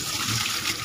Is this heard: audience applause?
no